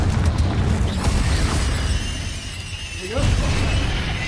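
Confringo blast spell detonating during Hogwarts Legacy combat, a dense loud burst of booming, crackling impact noise that dips briefly then surges again, with a voice faintly under the din.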